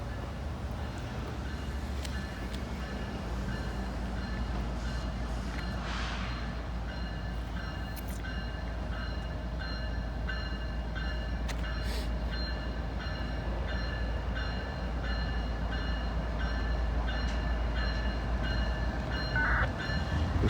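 A train street-running in La Grange, Kentucky rumbles past continuously on a dreary day, a dense steady roar of wheels and rail noise with faint metallic squeals, no voices.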